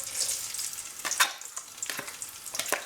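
Onion dropped into hot oil in a home kitchen while cooking vegan efo elegusi, giving a bright crackling sizzle with scattered sharp pops and spits, close and fairly loud, no voices.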